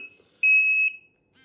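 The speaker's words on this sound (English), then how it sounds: "Testing the lights, testing the buzzer" A single sharp electronic buzzer tone from a portable carbon monoxide detector under test, high-pitched and steady for about half a second, close and loud, with quiet around it.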